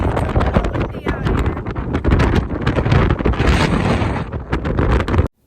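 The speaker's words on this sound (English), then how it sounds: "it's a little windy out" Strong wind buffets the microphone outdoors by a vintage Shasta trailer in a loud, continuous roar with gusty rumbling, steady throughout.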